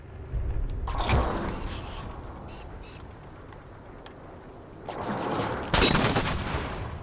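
Gunfire in the Halo 4 campaign mission Forward Unto Requiem during a sniper encounter: a burst of shots near the start, a sustained rattle of fire through the middle, and a second loud volley toward the end.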